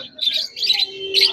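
Exotic pet birds at the Serampore pet market, heard as a close, loud cluster of bright chirps and tweets in quick repeated bursts.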